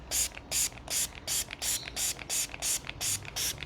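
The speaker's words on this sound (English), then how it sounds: "rather than spray directly onto here, I'm going to spray onto the cloth." Cleaner sprayed onto a cloth for cleaning a sticky, dusty rope light: about ten quick, evenly spaced hissing pumps from a trigger spray bottle, close and crisp.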